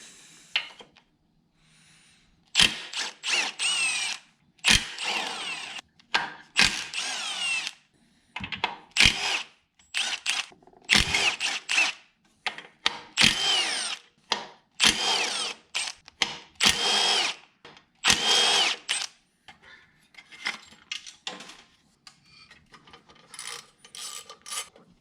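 Threads in an engine cylinder head being recut with a tap on a power drill, near and loud: repeated bursts of whirring, grinding cutting broken by short pauses, with no talk.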